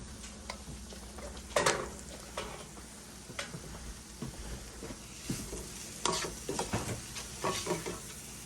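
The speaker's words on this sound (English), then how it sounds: "and then we're going to stir this back up" Taco meat with lime juice and taco seasoning is stirred in a pan, with quiet sizzling under irregular spoon clicks and scrapes against the pan.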